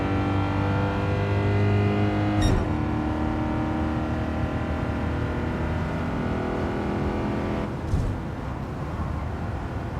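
Race car engine in Gran Turismo 7 droning at high revs, with a sharp gear change or lift near the middle and another pitch shift toward the end, loud and continuous without talk.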